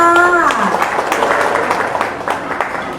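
Audience at an opening ceremony in a shopping mall clapping to welcome a provincial official, a steady burst of applause that starts loud and fades slightly, with a voice briefly heard at the start.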